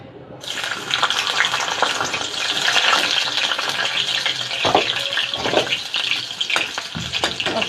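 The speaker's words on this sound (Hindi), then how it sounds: "अब ये सबसे पहले तो मैं ये भुजिया छोकूंगी" Radish bhujiya with garlic is tempered in hot oil, giving a loud, steady sizzle and crackle with occasional stirring scrapes, close up and without talk.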